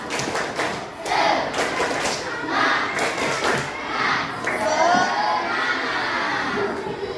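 Classroom of children doing a rhythmic spirit clap, bursts of group clapping and shouting in patterned beats, loud and lively with voices mixed in.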